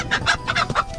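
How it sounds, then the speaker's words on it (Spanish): Rooster clucking in short agitated bursts as it is caught on a rural farm, close and fairly loud, with no talk. "Vamos a coger un gallo."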